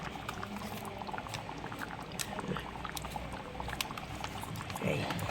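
Paneer curry simmering in a pan after ghee and garam masala go in, a steady close bubbling and sizzling with faint pattering throughout.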